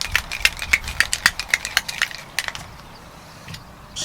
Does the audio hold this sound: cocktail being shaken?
yes